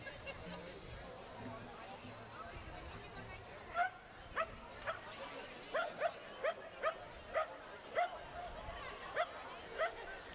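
Dachshunds yip and bark in a run of short, sharp bursts at a wiener dog race held at the Fort Erie Racetrack, set against a constant crowd murmur and background chatter.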